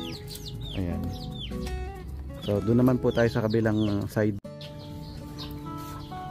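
Chabo Japanese bantam chickens cluck and squawk in a backyard coop, a busy run of close, bright calls that grow louder mid-way, while someone talks over them before a brief clatter and quieter clucking.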